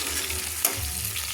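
Chopped tomato stirred through hot oil in a pan, a steady close sizzle with a single brief scraping knock partway through, no voices.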